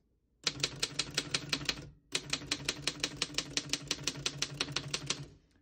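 Rapid mechanical keystrokes on a 1913 Underwood No. 4 antique desktop typewriter, a brisk burst of clacks, a short pause, then a longer steady run of crisp strikes, close and clear.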